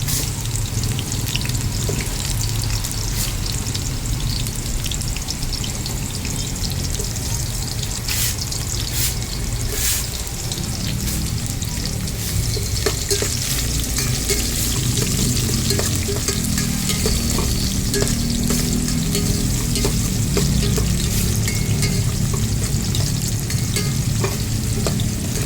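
Onion being stirred and fried in a pan for sinigang sa miso with bangus, with ginger already in the pan. It gives a continuous close sizzle under scraping stirs and occasional sharp clinks, with no pauses throughout.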